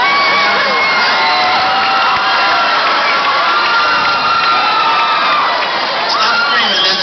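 A live comedy audience screams, whoops and cheers loudly and continuously, a dense mix of shrill voices with some shouting that holds steady from start to end.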